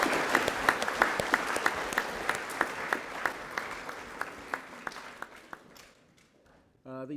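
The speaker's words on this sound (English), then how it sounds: "Round of applause for our rugby and league champs." Audience applause at a high school prize-giving for rugby and rugby league champions: a moderate crowd clapping in a hall with distinct individual claps standing out, gradually fading, then a voice begins at the end.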